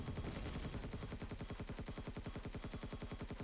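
Rapid bursts of explosions in the Empyrion space game, a dense rhythmic barrage of booms repeating fast and loud throughout, with no talk over it.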